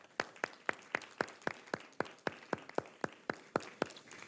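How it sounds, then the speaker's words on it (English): Sparse, faint clapping at a Future Leaders session for Rick, with individual claps landing in an even, regular rhythm, roughly four per second, distinct rather than blended into a crowd roar. "I think round of applause, yes"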